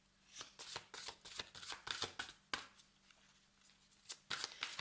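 Tarot cards shuffled by hand in a rapid run of crisp riffling bursts with brief pauses between, close and fairly quiet, with no voices.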